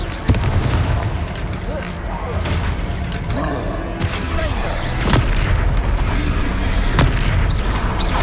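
Booming blasts from the Confringo fire spell in Hogwarts Legacy ring out over a steady roar of combat, several heavy hits spaced a second or two apart, with voices shouting in between.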